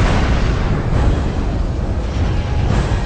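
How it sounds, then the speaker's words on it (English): A jet explodes after being struck by Mirage cannon fire while Sukhoi Su-7s are shot down, heard as a loud, sustained roaring blast with dense low rumble throughout and no talk. "then another Sukhoi falls to Mirage cannon fire."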